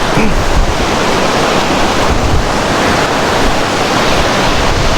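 Fast, icy water rushes loudly through Saklikent Canyon in Fethiye, Turkey, a dense, unbroken roar that stays close and steady with no voices over it.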